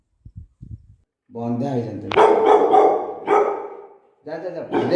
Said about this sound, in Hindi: ये कुत्ते से मुझे डर लगता है, इसलिए मैं थोड़ा दूर से इसका मैं वीडियो थोड़ा रिकॉर्डिंग कर रहा हूँ